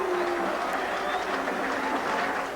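A delighted stadium crowd at Odsal Stadium applauds after a Bradford versus Wigan rugby league match, a dense, steady wash of distant clapping and murmur with a faint tonal hum running beneath.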